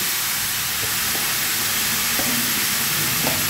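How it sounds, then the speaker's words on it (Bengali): Grated bottle gourd fries in a pan over raised heat, producing a loud, dense, unbroken sizzle and hiss. A few faint stirring taps sit under it, and no one speaks. "লাউগুলো দিয়ে আমি একটু ভেজে নিচ্ছি"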